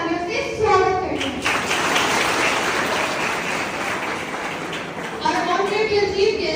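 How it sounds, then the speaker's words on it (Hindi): An audience at a college event bursts into loud, sustained applause to welcome the chief guests and dignitaries, about four seconds of dense clapping with a voice speaking just before and after. "तो आइए हम अपने मुख्य अतिथियों और अन्य गणमान्य व्यक्तियों का जोरदार तालियों से स्वागत करें।"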